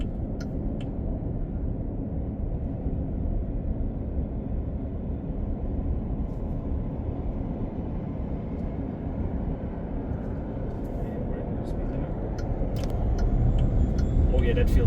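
A Nio EL8 six-seat electric SUV accelerates hard from 80 to 130 in Sport Plus mode, heard from inside as a steady low rumble of road and wind noise that swells near the end.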